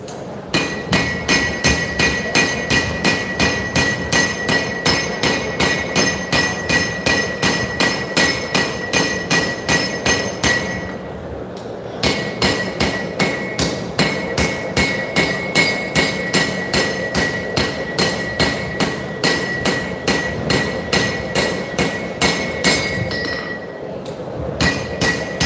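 A turning hammer pounds a steel knife blade during live forging at a knife show, loud evenly spaced metallic strikes in a fast steady rhythm, with a ringing clink and one short pause midway.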